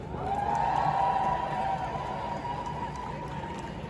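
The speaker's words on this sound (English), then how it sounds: "give them a massive fucking round of applause" A crowd applauds and cheers at an outdoor International Women's Day march in Manchester, a broad continuous wash of clapping that swells early and then eases slightly, with a sustained whistle-like tone running through it.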